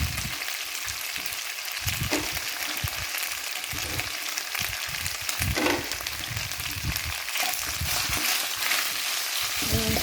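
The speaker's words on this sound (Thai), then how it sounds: "ก็ถึงผัดลงไปเลยนะคะ" Rad na ingredients stir-frying in olive oil, a loud continuous hiss and crackle close up with irregular thumps and scrapes of stirring throughout, and no voices.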